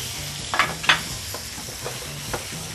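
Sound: pork stir-frying with garlic and chili in a pan

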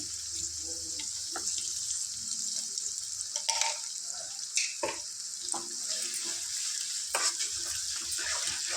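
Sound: goat tripe (boti) frying in oil

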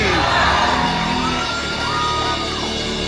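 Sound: church crowd cheering and shouting

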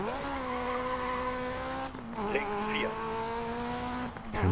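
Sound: rally car sliding out, tire squeal in video game DiRT 4

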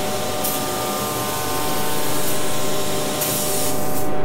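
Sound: spray gun spraying pale gold base coat paint

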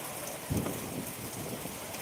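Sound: heavy rain with strong wind

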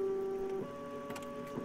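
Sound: office printer running in a horror video game (One Late Night)

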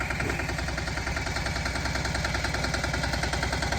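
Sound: tracked crawler tractor engine

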